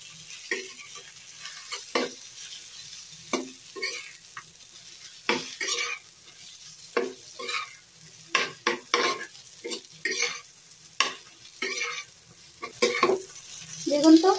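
Pointed gourd (potol) fries in a pan while being stirred, repeated spatula scrapes and clinks in an uneven rhythm over a quiet background sizzle, close and clear, without speech.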